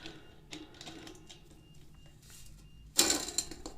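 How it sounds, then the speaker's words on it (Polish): A ratchet wrench tightens a centerlock lockring holding a bicycle brake disc, giving a quick burst of close, sharp clicking at the end after quieter handling noises. "i dokręcam grzechówką"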